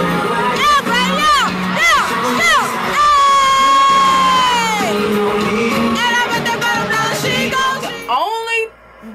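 A concert crowd at a show in Houston, Texas, screams, whoops and cheers loudly and continuously, with high shrieking voices rising above the roar and fading toward the end.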